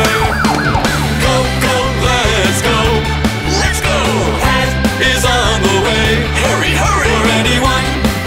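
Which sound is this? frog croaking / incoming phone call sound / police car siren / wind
police car siren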